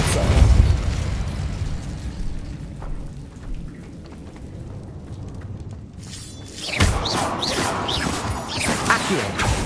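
The Depulso repelling spell in Hogwarts Legacy, a rumbling surge of magical energy that swells, dips, then bursts into a brighter crackling whoosh near the end, with no voices.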